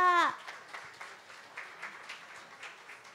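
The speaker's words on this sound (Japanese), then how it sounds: "今一度大きな拍手でお送りください" Scattered applause from an audience at a Japanese ceremonial knife ritual for cooking, following a brief voice at the start and continuing as fairly light, uneven clapping at moderate distance.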